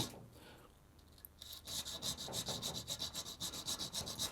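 A file rasps across the rear sight of a CZ 75 pistol, cutting a half-round notch: after a quiet start, close steady back-and-forth strokes settle into an even scraping rhythm of about three per second.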